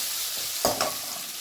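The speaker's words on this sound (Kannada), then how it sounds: "ನೋಡಿ, ಇದು ಚೆನ್ನಾಗಿ ಫ್ರೈ ಆಗಿದೆ." Kurma spices fry in a pan with a constant close hiss of sizzling oil, broken by one or two brief scrapes of a stirring spoon.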